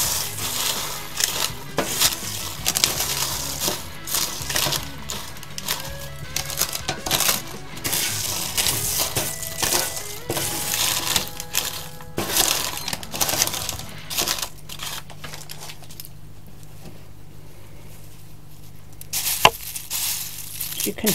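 Crispy roasted pumpkin seeds being crunched and rattled, a close, dense run of sharp crackly clatter that thins out briefly near the end.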